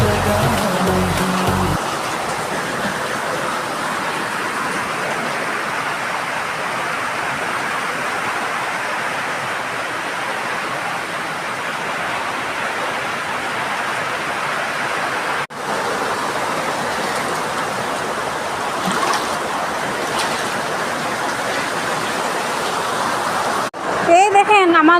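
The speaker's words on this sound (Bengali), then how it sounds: "এই দেখেন আমার ঘরে জল ঢুকছে বুঝছেন।" Rain floodwater pouring into a house makes a continuous broadband rushing wash, loud and steady throughout with little variation.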